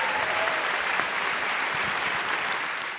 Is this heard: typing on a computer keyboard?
no